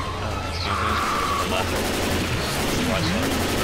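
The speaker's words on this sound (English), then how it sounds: "Can we stop shooting?" Dense, continuous gunfire in a Left 4 Dead swamp level, loud and constant, with a voice talking over the shooting.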